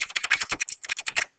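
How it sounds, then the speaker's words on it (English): Rapid typing on a computer keyboard while filling in an assignment in Microsoft Teams, a quick run of close, crisp key clicks with a short pause midway, heard alone. "You can type whatever you need to do."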